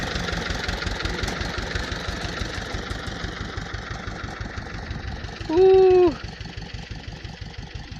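A tractor engine idling in a forest, a steady low rhythmic chug throughout, briefly overlapped by a short exclaimed voice.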